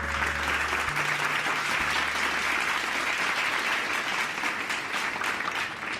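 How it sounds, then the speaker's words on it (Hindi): Sustained studio audience applause at a Hindi TV game show, a steady dense clapping filling the whole stretch after a brief low hum at the start, with no voices over it. "इनके लिए एक बार दोबारा तालियां।"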